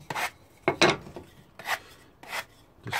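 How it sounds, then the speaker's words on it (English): Hand sanding with 120 grit sandpaper, lightly breaking the edges of a wooden board: five separate rasping strokes, close and fairly loud, each lasting a fraction of a second with short quiet gaps between them. "If we just break the edges, by that what I mean is just with 120 grit sandpaper"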